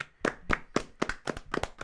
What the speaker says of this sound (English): Can we get a round of applause for Eddie?